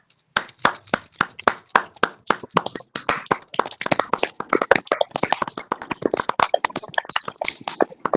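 Loud, steady rhythmic hand clapping from a group at a women's fellowship prayer meeting, sharp claps in a quick even beat throughout with no voices.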